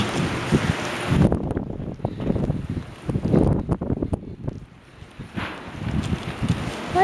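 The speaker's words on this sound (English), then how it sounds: "What a windy day." Strong gusts of wind buffet the microphone on a blustery day in Japan, roaring and rumbling in uneven surges with brief lulls between them, loud and close throughout.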